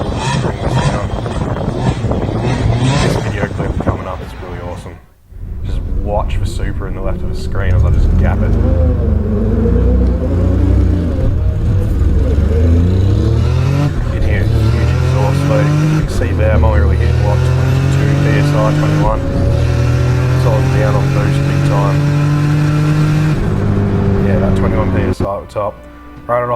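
A VY V6 turbo Holden Commodore races down a drag strip, its engine roaring loud and close with rising pitch sweeps through each gear change over about twenty seconds, joined by a brief dropout early on.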